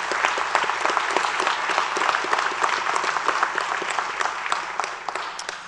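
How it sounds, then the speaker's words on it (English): An audience claps steadily and loudly, a dense wash of applause that holds for several seconds before tapering slightly. "Let's give them all a big round of applause."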